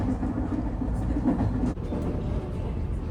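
A train runs along the tracks near Sasebo, Japan, heard from inside the carriage as a steady, loud rumble of wheels and motor with a brief clunk midway.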